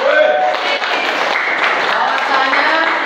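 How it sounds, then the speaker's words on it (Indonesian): Loud, close applause from a class audience after a presentation on sermons and preaching, continuous for a few seconds with voices mixed in underneath. "Tepuk tangan dulu buat kita semua."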